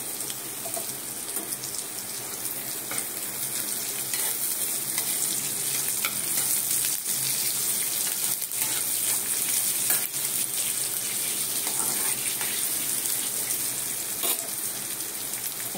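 Onion and garlic frying in a pan give a steady broad sizzle, loud and close, with occasional scrapes of stirring and no speech.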